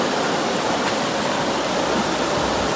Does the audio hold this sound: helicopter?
no